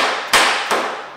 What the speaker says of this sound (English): we're going to tap it down. Make sure it's sitting flat in the vise.